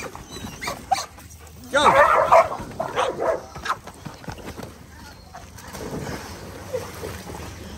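An excited dog barks in several loud bursts while playing with toys beside water at a rural sanctuary, with someone talking encouragingly around the barks and splashing movement in the background.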